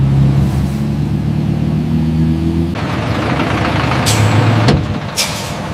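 A large truck arriving at the gate of a basmati rice factory, its engine rumbling loud and close before the idle note drops, with short hissing bursts like air brakes near the end.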